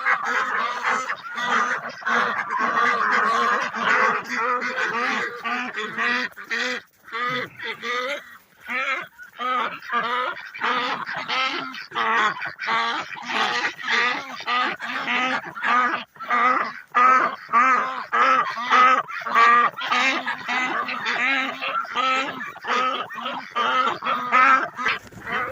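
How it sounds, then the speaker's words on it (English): A flock of ducks calls continuously at feeding time, a dense chorus of honking quacks up close, with a voice briefly heard among them. "I got to get food and water to the ducks, too."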